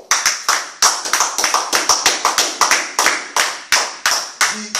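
A church congregation clapping together in praise: loud, sharp rhythmic claps in a quick, steady beat over about five seconds, with many hands merging into crisp, close bursts.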